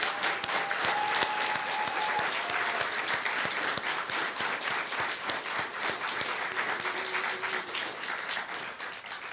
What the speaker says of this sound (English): I'd just like to give the graduates a big round of applause and say congratulations.